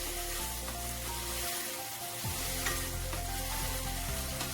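Tomato paste sizzles and fries in hot spiced oil for a homemade Indian chicken curry, a steady close crackle with occasional stirring scrapes and a brief lull partway through.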